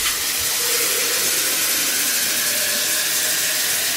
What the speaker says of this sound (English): Okay, so what I'm gonna do is I'm gonna fill it up.